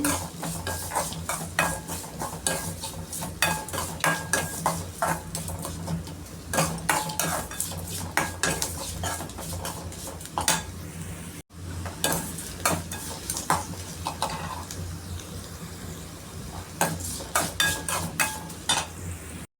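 Onions sautéing in a pan for hotel-style idli kurma, stirred steadily with a metal utensil that scrapes and clinks against the pan, with a soft sizzle underneath and no talking.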